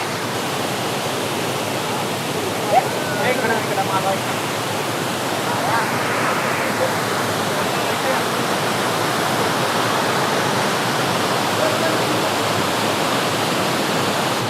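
Steady, full roar of a waterfall at Amboli dropping about 40 feet into a pool rushes on without a break, loud and close, with a faint voice briefly audible over it.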